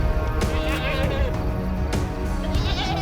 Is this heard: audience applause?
no